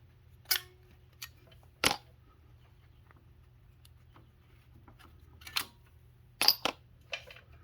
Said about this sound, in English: You gotta take these little screws out